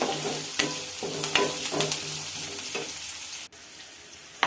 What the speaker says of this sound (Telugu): కరివేపాకు పచ్చిమిరపకాయలు ఉల్లిపాయలు అల్లం ముక్కలు బాగా ఫ్రై చేసుకుందాం